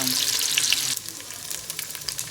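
Pork belly sizzles in a pan for borscht, a bright crackling hiss that is loud at first and then settles to a softer, spitting fry, close by, with no voices.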